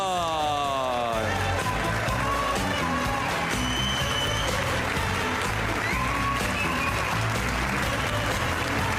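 An arena crowd at the World Pool Masters applauds a player's introduction, with sustained loud clapping and some cheering that follows a brief spoken announcement.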